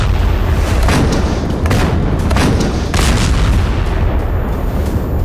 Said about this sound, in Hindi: वहां से चुपके से निकलकर आरपीजी से आईडीएफ के टैंक को निशाना बना रहे हैं।